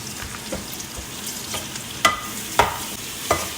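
Chicken with spices, Maggi stock and tomato paste sizzles in a pan for a cashew chicken dish, as a utensil stirs with soft scrapes and then three sharper, louder scrapes near the end, with no talking.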